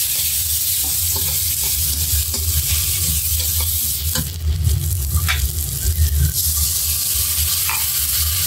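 Spice paste with onion being stir-fried in oil for a pangas fish roe curry, loud continuous sizzling with repeated scraping stirs of a spatula across the pan, no voices.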